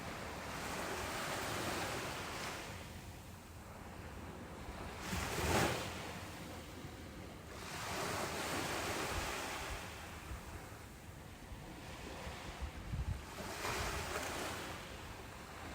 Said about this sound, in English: Waves begin to strike the rocks with a slow, deliberate cadence.